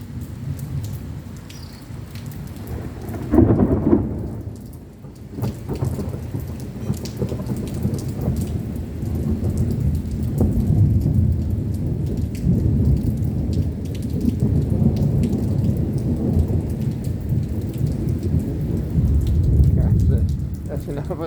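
Thunderstorm in Mazatlan with steady heavy rain and deep rolling thunder rumbles building and fading, a loud crack near the start, on a humid, windless day.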